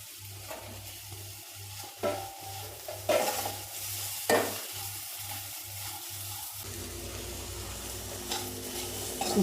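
Ivy gourd stir-fried with grated coconut in a pan, a steady sizzle with repeated scraping strokes of a spatula stirring, close and clear, the frying continuing alone after the stirring stops.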